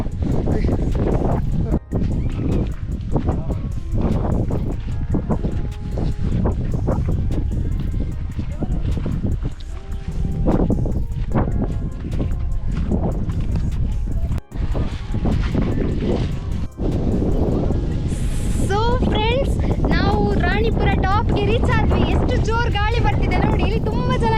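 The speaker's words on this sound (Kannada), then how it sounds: "ಗಾಳಿ ಜೋರು ಗಾಳಿ ಬರ್ತಿದೆ" Strong, gusty wind roars and buffets the microphone throughout on a rainy hill trek, while a person speaks over it close by.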